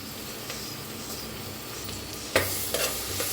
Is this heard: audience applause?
no